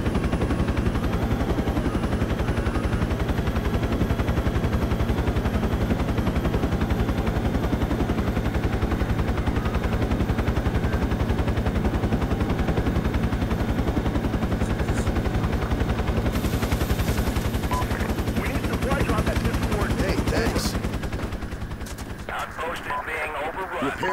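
Sustained automatic gunfire and machine-gun bursts fill a Project Reality infantry battle as troops are surrounded and shot at from both sides, dense and continuous throughout, with a couple of sharper nearby shots late on and radio-style voices talking underneath.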